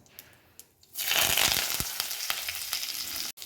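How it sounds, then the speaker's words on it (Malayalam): Mustard seeds spluttering in about two spoons of hot coconut oil in a pan, a burst of loud crackling sizzle with sharp pops that starts after a quiet moment and keeps going steadily to the end. "ഇവിടെ കടുക് പൊട്ടിയിട്ടുണ്ട്."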